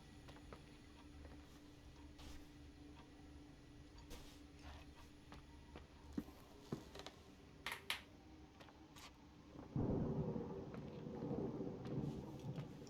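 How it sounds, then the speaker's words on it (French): A thunderstorm rumbles in The Suicide of Rachel Foster, with scattered clicks and taps giving way to a loud, broad roll of thunder that swells and then lingers under steady rain. "il y a de l'orage"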